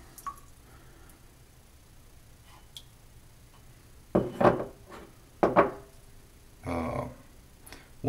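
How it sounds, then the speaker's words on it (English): PAA Speakeasy shaving soap is blooming in its container, heard as faint drips and soft wet squishes. Quiet handling ticks lead up to a few louder, close squelching movements near the end. "just bloom the soap just a little bit more"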